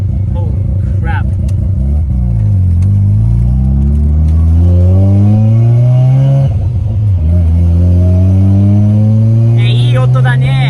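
A Mazda RX-7 FC rotary engine, running again after fifteen years, idles loudly up close and then revs in rising, falling sweeps.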